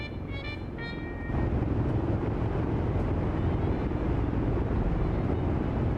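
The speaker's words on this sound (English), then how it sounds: "Hear those engines just relaxing?" B-17 bomber engines in a flight simulator give a steady, loud droning rumble that fills the clip after a brief quieter start, with no talk over it.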